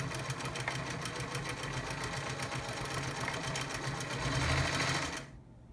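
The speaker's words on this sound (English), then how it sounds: "to go into reverse, all you do is you push this button in, and that will just reverse at whatever stitch length you're at." A vintage Singer Stylist 513 sewing machine stitching in reverse gives a steady, close, rapid mechanical whir and clatter for about five seconds, then stops abruptly.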